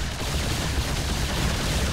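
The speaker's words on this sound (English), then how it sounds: "Yamato cannons firing, taking down that base so quickly." Yamato cannons firing in StarCraft as a base is destroyed, heard as a dense, continuous roar of low booming blasts and crackling explosions across the whole stretch, loud and without talk.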